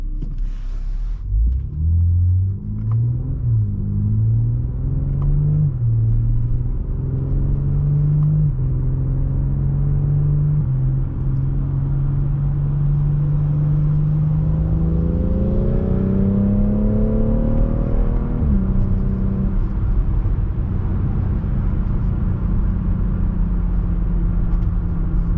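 A 2018 BMW X3 M40i (G01) with the B58 engine and a sport exhaust accelerates hard. The engine note climbs and drops through several gear changes as a loud, steady drone, with no talking.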